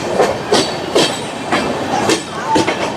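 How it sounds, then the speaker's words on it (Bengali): The Kolkata–Sairang Express rolls slowly through Ranaghat Junction, its wheels clacking over rail joints in a steady, evenly spaced rhythm heard up close. "খুব ধীর গতিতে আমাদের এই নতুন কলকাতা সাইরাং এক্সপ্রেস পার করে যাচ্ছে"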